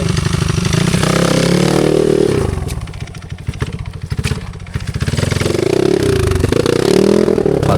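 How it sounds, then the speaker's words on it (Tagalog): Motorcycle engine running close by, a rough rhythmic idle that dips in the middle and then rises again as the revs climb, with some clattering and scraping mixed in. "dibugat mo yung motor oh"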